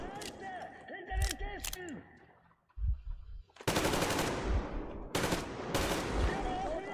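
Automatic weapon fire in the post-apocalyptic shooter Metro Exodus, with long sustained machine-gun bursts after a few scattered shots and a brief lull, loud and close throughout.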